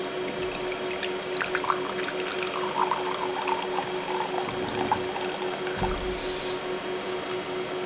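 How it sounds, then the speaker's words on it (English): Water pours and trickles steadily at close range into UPS battery cells, a gentle continuous liquid flow with small gurgles throughout. "So I'll go ahead and start dispensing water."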